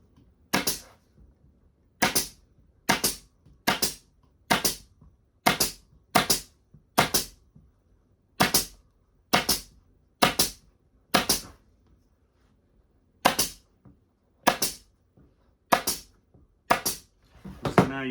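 A staple gun fastens fabric onto a cushion, firing sharp, close snaps one after another at an uneven pace of roughly one per second, with brief pauses between runs and quiet handling in between.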